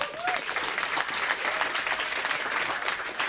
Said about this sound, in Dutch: Dames en heren, applaus voor Joost Oomen.